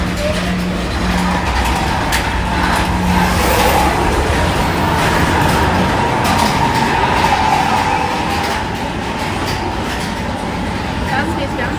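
Ride noise aboard Space Mountain, the indoor high-speed roller coaster at Disney World: a steady rumbling, rattling rush of cars on track with a faint tonal hum, continuous and loud, with voices mixed in.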